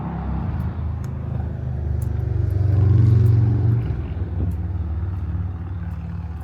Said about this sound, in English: Sorry, somebody's revving.